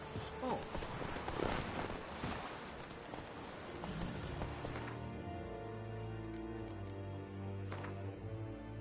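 The horse Roach clip-clops along in The Witcher 3, an even hoofbeat rhythm heard against game ambience that thins out midway into sustained musical tones and a few high chirps.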